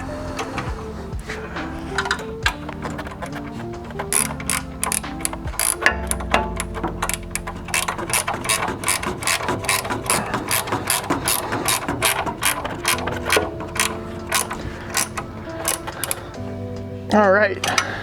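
Rapid ratcheting clicks come from a wrench tightening bolts on a Hepco & Becker crash guard fitted to a Triumph Tiger 900 motorcycle. The dense, uneven bursts of clicking stay close and fairly loud throughout.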